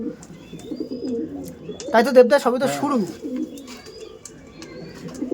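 Low, rolling coos from Andhra breed pigeons repeat under a man's conversational speech, with a louder burst of voices in the middle.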